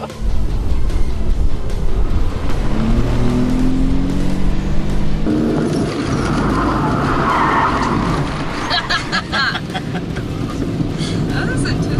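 A car spinning through a backwards slalom on a cone course, with loud engine revving, tire squeal and skidding up close, while a voice talks over part of it.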